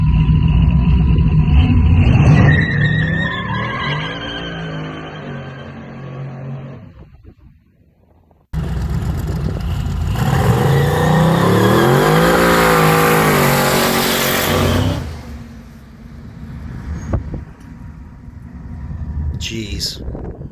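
A truck burning rubber on a city street, engine roaring and revving hard with a harsh, sustained screech of spinning tires, loud and close, a brief drop-off, then another long burst amid shouting voices.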